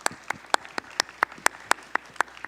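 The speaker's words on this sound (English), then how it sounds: "Let's give them a round of applause." Audience at a business forum on Taiwan's new economy claps for a panel: sharp, separate claps in a loose, steady rhythm, sparse rather than a full ovation, with no talk.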